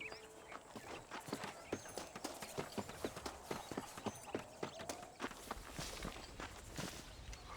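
Horse hooves clip-clop at a steady walking rhythm in the Red Dead Redemption video game, close and moderately loud, a regular train of sharp hollow knocks lasting throughout with no talk over them.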